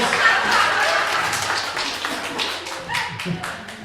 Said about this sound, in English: So ladies and gentlemen, big round of applause for the vision.